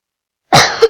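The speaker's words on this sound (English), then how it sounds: "Got a bit of a cough today." A single sharp, close cough bursts out of silence and ends in a brief throat-clearing rasp.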